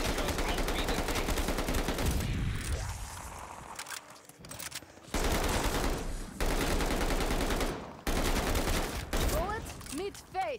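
Loud, dense automatic gunfire from a Call of Duty Vanguard multiplayer match, continuous bursts broken by brief gaps, close and dominating the mix.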